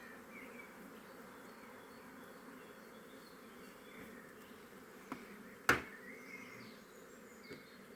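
Swarm of honey bees buzzing inside a Dadant hive during a swarm capture, a faint continuous hum with a sharp knock partway through.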